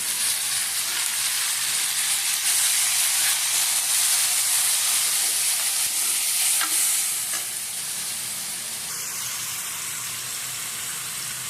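Tomato stirred into sautéed onions for a tilapia fish curry, a steady bright sizzle and hiss from the pan that drops slightly softer partway through, with no voices.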